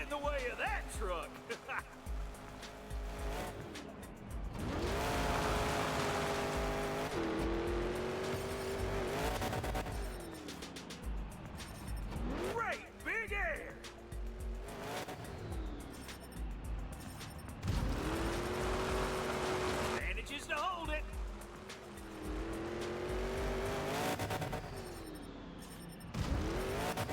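A truck drives in a video played back on screen. The engine revs and surges, with tire squeals and skidding noises rising and falling over nearly half a minute, and people talk throughout.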